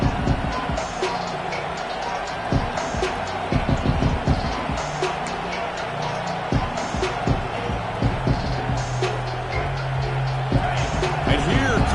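A large stadium crowd at a college football video game roars continuously in the background, a dense, steady wash of noise with a commentator talking over it.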